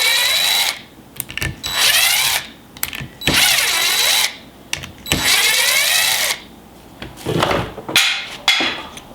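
A power driver with a Torx bit backs out the screws holding the base of a Dewalt DWE6423/DWE6421 orbital sander, giving several loud whirring bursts of about a second each, split by short pauses and small clicks.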